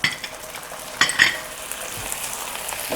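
Ginger paste cooks in a pan with a soft, continuous sizzle, and a few light scrapes and taps of a utensil stand out near the start.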